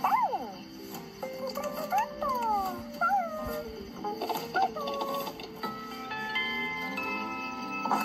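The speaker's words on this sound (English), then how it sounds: "Have you seen Blue, my puppy?" A cartoon puppy, Blue from the 1999 Blue's Clues Big Pajama Party special, gives a few short barks and rising whimpers over music, with someone talking around them.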